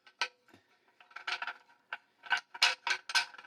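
An iOptron HAE29 tripod spreader is screwed up into the center of the tripod, giving a run of close, irregular mechanical clicks, scrapes and ratcheting ticks with short pauses between turns.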